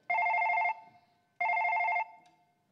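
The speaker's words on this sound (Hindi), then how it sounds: "फोन आ रहा, फोन, मोबाइल है मेरे कने।" A mobile phone rings in two identical electronic bursts, each under a second long and separated by a short pause, loud and close with nothing else around it.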